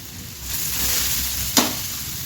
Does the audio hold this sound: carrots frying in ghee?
yes